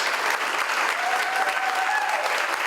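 Applause fills a theatre during a public funeral ceremony, a dense, steady clapping from a large crowd that continues throughout.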